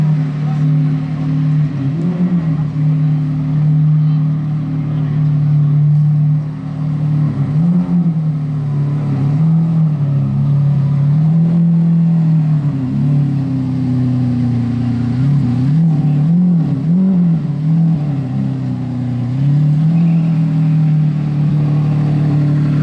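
Lamborghini Aventador S supercar engine starting and idling on a street in Monaco, with a loud, steady rumble and several surging revs, distant and continuous throughout.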